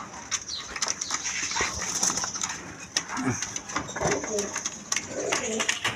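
A pair of red Danish pigeons coos softly and fairly distantly amid steady background noise, with people talking and a dog-like whimper now and then.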